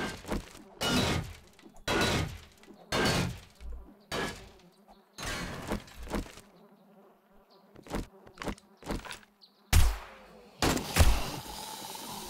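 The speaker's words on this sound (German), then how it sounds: "Das Summen von diesem Container, ne? Von den Fliegen." Flies buzz around a container in the survival video game 7 Days to Die, heard as irregular bursts of close, insistent droning that swell and cut out repeatedly, with no talk over them.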